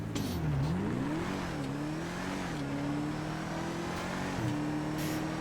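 An Albany V-STR sports car in GTA 5 revving hard on launch control and accelerating down a runway, its engine note dipping and then climbing through gear changes, loud and continuous.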